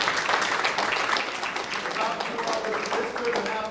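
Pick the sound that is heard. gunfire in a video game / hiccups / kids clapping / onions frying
kids clapping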